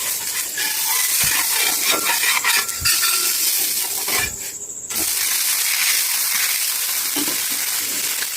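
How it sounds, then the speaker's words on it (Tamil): Samai little millet dosa sizzles and hisses steadily on a hot pan, with a brief scrape and a short lull as it is flipped, then the frying resumes loud and close. "வெந்துருச்சு தோசை திருப்பிக்கலாம்"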